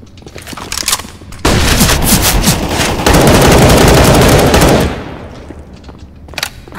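Rapid automatic gunfire in the video game Counter-Strike: Global Offensive, a loud sustained burst of rattling shots lasting several seconds, with scattered single shots before and after and no talk.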